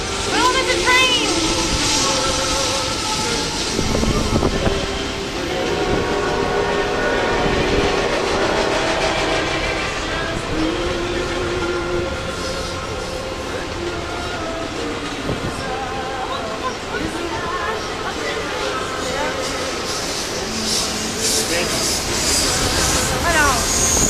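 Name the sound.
train passing at Hersheypark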